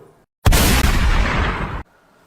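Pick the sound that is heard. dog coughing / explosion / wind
explosion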